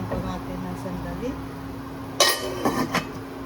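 Metal pot lid set down on a pot of vegetables simmering in coconut milk, a short clatter followed by a couple of lighter clinks over a low kitchen hum.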